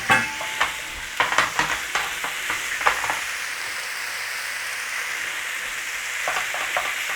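Beef mince searing in a pan for a Big Mac wrap, with a bright constant sizzle and several quick scraping and tapping hits of a utensil pressing the meat early on.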